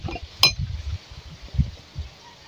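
Stirring a calamansi drink with sugar in a glass, with one sharp clink of a spoon against the glass near the start, then soft low swirling and scraping knocks that stay quiet and close.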